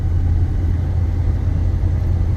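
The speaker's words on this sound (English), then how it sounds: "these mud tires, they do make a little bit of noise" Low tire hum and road rumble from a 1989 Chevrolet C/K 1500 pickup on mud tires, steady and droning with no voices.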